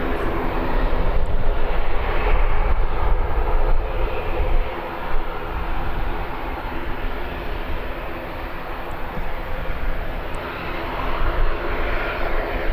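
An ATR turboprop airliner departs Birmingham Airport, its steady, loud engine roar holding throughout the clip with broad rumble and no voices.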